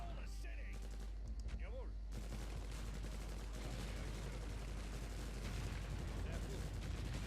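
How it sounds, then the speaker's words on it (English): In the WW1-era Empire Earth strategy game, enemy artillery booms and rumbles in a dense, continuous barrage. The explosions are loud and layered over battlefield noise, with some game voices or speech mixed in. "Oh, wait, the enemy has artillery."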